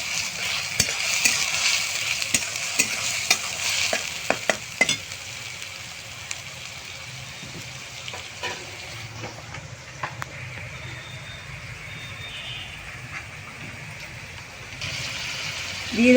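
Ginger garlic paste frying in oil in a pan for chicken biryani, giving a steady close hiss and sizzle, with a spoon clinking and scraping in bursts early on before the frying continues alone.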